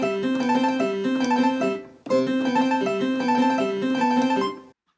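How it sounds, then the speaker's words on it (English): Harpsichord sound from an electronic keyboard: bright, plucked-sounding notes in a quick repeating pattern, played in two phrases with a brief gap between them, close and clear with no voices, then cutting to silence. "here's the harpsichord sound."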